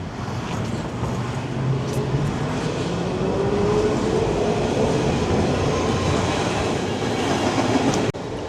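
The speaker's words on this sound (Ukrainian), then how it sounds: "щось вам покажу трамвайчика" A tram in Milan rolling past close by, a steady loud rumble of wheels on rails with a faint rising whine, ending in a sudden clack.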